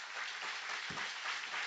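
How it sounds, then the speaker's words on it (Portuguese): Steady applause from a church congregation during a sermon, a dense continuous wash of clapping at moderate distance with no voices rising above it. "Aplauda bem forte ao Senhor."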